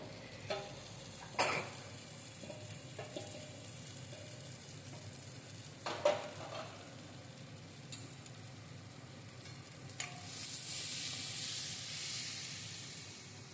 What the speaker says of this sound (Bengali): মেয়ে দেখি ঠিক মনে রেখে সেই ভেজিটেবিল ডালটা বানাচ্ছে।